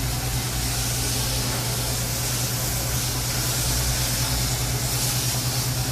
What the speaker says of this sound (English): All you're going to do is just spray the catalyst and make sure all the stuff comes out of it.